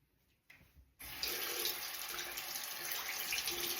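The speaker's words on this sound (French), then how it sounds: "tu vas le rincer sous l'eau et bien le faire sécher, ne le laisse pas tremper dans l'eau surtout" Water from a tap runs steadily over the head of a Nu Skin ageLOC Boost device as it is rinsed, the flow starting abruptly after a brief quieter splash and then continuing loud and close without pause.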